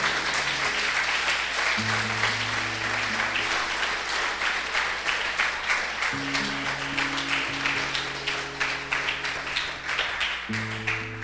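A church congregation applauds during a sermon, a sustained, steady patter of many hands clapping while sustained organ or keyboard chords play underneath, moderately loud throughout.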